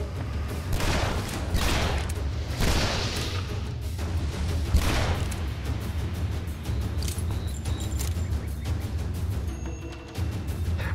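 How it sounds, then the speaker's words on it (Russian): Loud, dense gunfire and blasts in Shadow Warrior with a deep rumbling explosion, sustained booming bursts over a continuous low roar. "Вот это типа мощный взрыв летит."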